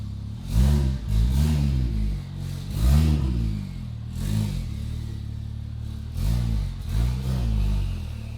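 A rebuilt Porsche 911 Turbo pulls away with repeated throaty revs, its engine note rising and falling in several swells over a constant low rumble, loud and close.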